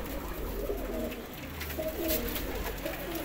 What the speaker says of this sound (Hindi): ये सारे जोड़ों वाले कबूतर हैं